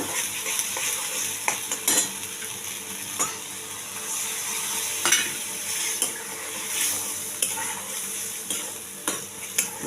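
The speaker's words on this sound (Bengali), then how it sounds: "এবার গোটা গরম মশলা একটু দিয়ে দিলাম" Whole garam masala of cardamom, cinnamon and cloves frying in oil in a pan while being stirred, a continuous close sizzle with repeated scraping and clicking strokes of the spoon, no voices.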